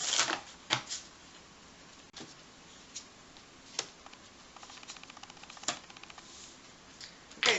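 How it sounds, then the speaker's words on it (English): A tarot deck is riffled and shuffled nearby in quick, crisp bursts with soft taps and pauses between, fairly quiet and with no voices. "hold that card out and then shuffle the deck"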